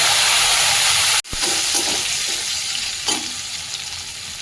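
Tomatoes tipped into fried onions in a pan for Katla fish kalia, a loud close hiss that cuts out briefly, then a renewed strong steady sizzle with light stirring; no talk.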